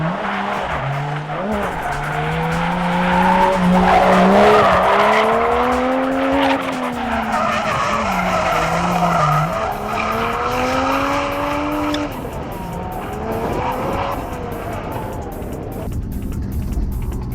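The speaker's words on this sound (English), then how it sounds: "A little more angle and speed this time for Matt." A 1989 Nissan 240SX drifts through a run, engine revving hard with rising and falling pitch while tires squeal continuously, loud and close throughout.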